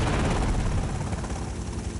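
A helicopter in the video game GTA Vice City gives a loud, steady rotor drone with a dense rumbling texture, near and continuous.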